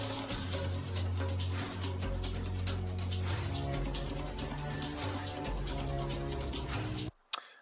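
A deep, rumbling sub bass line steps between low notes beneath a dense synth texture, steady and loud throughout before cutting off abruptly.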